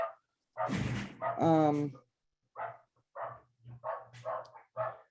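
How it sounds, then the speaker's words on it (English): Dogs barking indoors during a board meeting call, a few loud yelps and whining cries at first, then a run of shorter, quieter barks spaced out at an even rhythm, close to the microphone. "excuse my dogs, they're gonna start barking right now."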